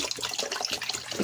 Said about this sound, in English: I will add some additional water as well in here